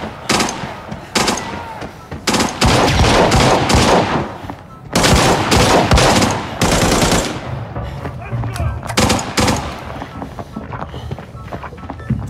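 Loud bursts of rapid automatic gunfire in the video game Arena Breakout, long sustained volleys broken by short gaps and scattered single shots, close and intense.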